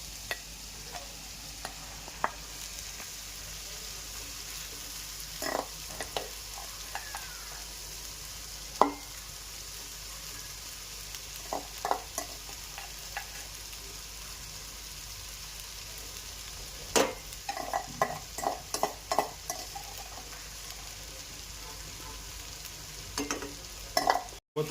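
Boiled rice being stirred and mixed into vegetable pulao in a pan, giving scattered scraping and clinking strokes over a faint steady sizzle, with a busier burst of stirring near the end; no one talks.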